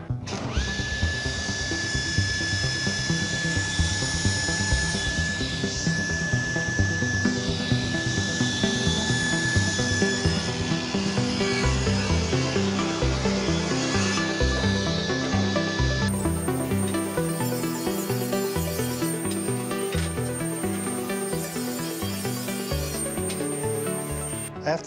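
A power saw cutting thick pallet wood for a door jamb, a loud continuous whining, grinding cut that holds steady throughout with a rough rasping texture and no talking.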